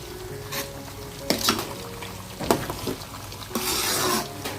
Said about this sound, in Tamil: கொதி வந்துடுச்சு.